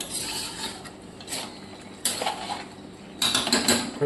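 A lid set over a pan of chicken cooking without oil, with sharp metallic clanks and scrapes in several bursts, close and fairly loud, no talking.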